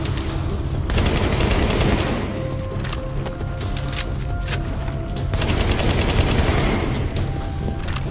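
Dense gunfire rattles in Tom Clancy's The Division video game during a boss battle against a large tanky enemy, with continuous rapid bursts and explosions loud and unbroken throughout.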